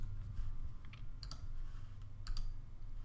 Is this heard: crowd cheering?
no